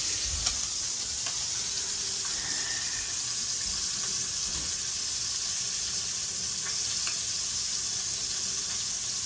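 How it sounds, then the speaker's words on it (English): A pot of couscous comes up to a boil on a stovetop, giving a steady, even hiss and bubbling that carries on without a break throughout. "Remember, we're bringing the couscous up to a boil."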